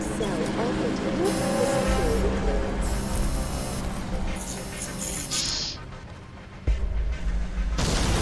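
A planted bomb explodes in the video game Crysis 2, a loud, heavy boom amid ongoing gunfire and battle noise, with a deep blast near the end.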